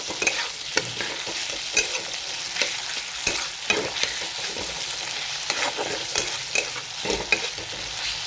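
A pan of tomato, garlic, ginger and onion hisses continuously while a spatula stirs and scrapes at irregular intervals, close up and without any voices.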